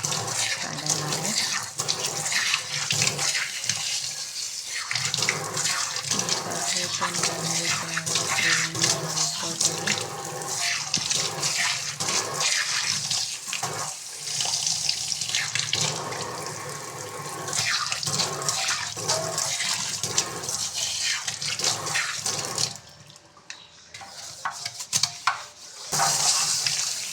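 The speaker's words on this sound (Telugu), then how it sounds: "ఇలా వాటర్తోనే కడగాలి." Running tap water splashes steadily while something is washed under it in a sink, a continuous close gushing that briefly drops away near the end.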